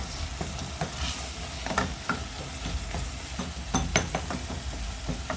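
A cooked tomato mixture with salt is stirred in a pot while frying, a steady sizzling hiss with scraping spoon strokes at an uneven rhythm, close and loud throughout.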